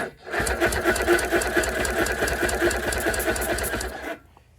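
A 1988 Force 85 HP outboard motor cranks over steadily on the starter for a compression test, giving a fast, even, rhythmic chugging close up that stops abruptly near the end.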